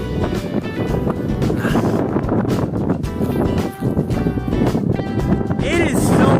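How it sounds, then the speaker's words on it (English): Strong, steady wind noise buffets the microphone throughout, a loud broadband roar with gusty fluctuations. "It is so windy here."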